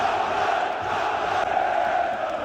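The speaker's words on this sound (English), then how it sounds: "Like, listen to the crowd." A packed stadium crowd at a Dagestani basketball game roars continuously, a dense, loud wall of chanting and shouting with no single voice standing out.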